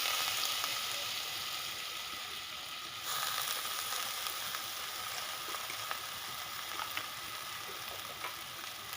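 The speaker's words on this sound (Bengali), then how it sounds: "এবার এই তেলের মধ্যে আমি আলুটা দিয়ে দেব। কেটে রাখা আলুটা ভেজে নেব এর মধ্যে।" Salted cut potatoes frying in oil in a wok (kadai), a soft continuous sizzle at moderate level that swells slightly about a third of the way in, with faint scattered crackles.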